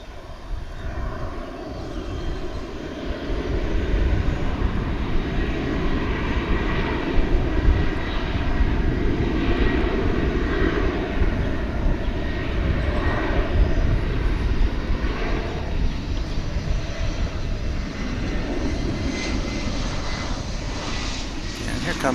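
An airliner's engines spool up for takeoff at DFW International Airport, a loud sustained roar rising and holding steady, while someone talks over it.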